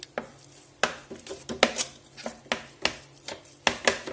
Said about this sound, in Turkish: Kaşıkla içini karıştırmak istiyorum.